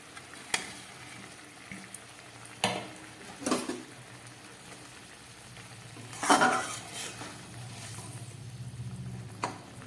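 Fried paneer drops into a simmering malai curry and gets stirred, with a few scattered spoon clinks and scrapes against the pan over a soft bubbling background.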